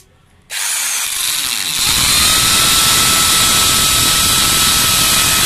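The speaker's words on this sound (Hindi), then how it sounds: "फिर ड्रिल करके उसमें स्क्रू लगाकर फिर किस तरह से लगाते हैं वो आपको दिखाएंगे" A power drill bores screw holes for mounting a changeover switch, a loud continuous high whine that kicks in abruptly and settles into a steady, harsh grinding drone.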